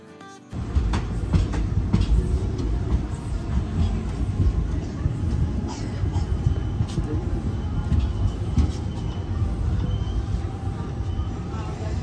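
A passenger train on the Kolkata to Puri route heard from on board, a continuous loud rumble and rattle of wheels and carriage after a quiet start, with some talk mixed in.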